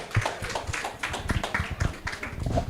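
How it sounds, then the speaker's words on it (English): An audience at a talk and panel event applauds its speakers and panelists, a loose burst of hand claps of moderate loudness, close and uneven. "Round of applause for all our speakers and all our panelists."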